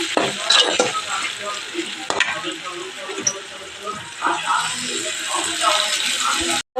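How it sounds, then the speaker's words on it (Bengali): Onion fries in a pan after whole spices are tempered in oil, giving a loud continuous sizzle with scattered clicks and scrapes of stirring. "পেঁয়াজটা একটু ভেজে নেব।"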